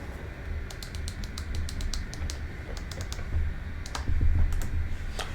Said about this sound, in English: It's a little bit sensitive when I'm typing something using the MobiFlight profile